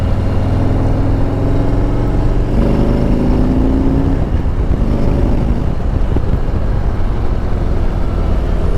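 A 2025 Harley-Davidson Road King police motorcycle rumbles steadily while riding, a loud, close, continuous low engine drone with slight pitch shifts as it pulls along, no talking.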